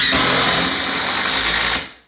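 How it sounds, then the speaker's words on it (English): A power drill drives a 3.5-inch screw into wooden wall framing, a loud, steady high-pitched motor whine lasting under two seconds before winding down and stopping. "Make sure your screws go in far enough that it's not going to hit the wall board."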